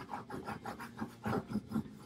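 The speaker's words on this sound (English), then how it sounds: "all I'm trying to do is take the gloss off the magazine paper" Sheets of glossy magazine paper are sanded by hand with 220 grit sandpaper, giving a soft, rhythmic rasping of about ten back-and-forth strokes, close and fairly quiet, with no talking.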